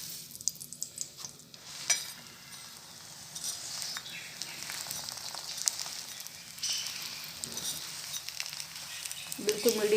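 An aloo gobhi paratha fries in oil on a pan, giving a soft continuous sizzle with scattered pops and scraping, moderately quiet and close, with no talk.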